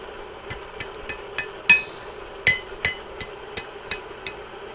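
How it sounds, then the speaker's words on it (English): A blacksmith strikes rebar held over the edge of an anvil, a dozen sharp, ringing metallic hammer blows at a steady rhythm, close and loud with no talk. "And I'm putting it over the edge of the anvil and then hammering in space."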